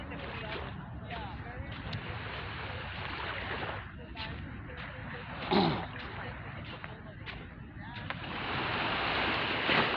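Ocean waves wash onto the shore at Barceloneta beach in Barcelona, a broad steady roar of surf with wind buffeting the microphone, while people talk over it.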